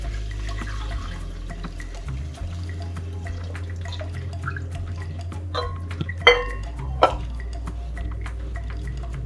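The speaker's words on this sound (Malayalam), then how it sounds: "ഇതിലേക്ക് നമ്മൾ പുളി പിഴിഞ്ഞത് ഇതിപ്പോൾ 1 ലിറ്ററോളം ഞാൻ ഒഴിക്കുകയാണ്" About a litre of squeezed tamarind water is poured into a pot of sautéed ingredients for Kerala rasam, a steady liquid splash over a low hum with a couple of clinks near the end.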